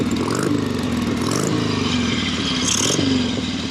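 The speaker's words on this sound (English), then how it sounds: "You can hear the air rushing into the carburetor when I turn the gas" A 1976 Harley-Davidson Sportster 1000 V-twin runs close by with a loud, lumpy idle and rattle, and the throttle is blipped into repeated revs that rise and fall.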